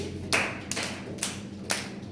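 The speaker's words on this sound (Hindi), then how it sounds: "तालियां बजाओ इसके लिए" Classroom students clapping during a lesson: four sparse, separate claps spaced about half a second apart, fairly faint over a quiet room hum, with no talking.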